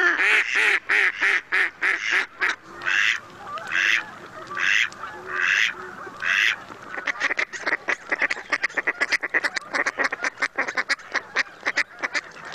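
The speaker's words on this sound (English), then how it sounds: "All right, so there's your mallard, our most common duck." A mallard duck gives a loud, close series of quacks, first in spaced bursts and then in a fast, rhythmic run of short calls.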